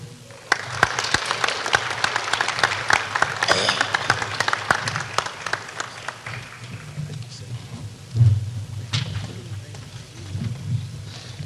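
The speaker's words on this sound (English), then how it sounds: "Let's give the mayoral candidates another round of applause." Crowd applause for mayoral candidates at a meet-the-candidates event, a dense rolling patter of many clapping hands that fills the room and carries on steadily before gradually thinning out, heard mostly alone.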